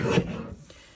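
A single quick rasping slide of a paper trimmer blade cutting card stock, close and brief, fading out after the stroke.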